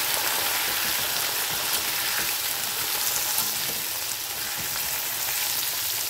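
Pumpkin pieces frying in a hot pan, a steady close sizzle with soft crackles and occasional spatters running without pause and without talk.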